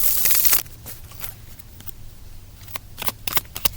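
Cards being shuffled up close: a loud riffle burst at the start, then softer scattered flicks and snaps of the deck, ending in a quick cluster of sharp card riffles.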